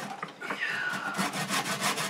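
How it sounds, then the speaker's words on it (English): A tenon saw cuts through a piece of wood held by hand while a club is made, giving a few rhythmic rasping strokes at close range. "ideally a tenon saw like this"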